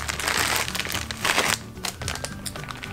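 A plastic bag around an 18-inch bundle of Burmese exotic wavy hair extensions crinkles loudly and close up as it is handled and opened, in dense bursts with a brief pause partway through.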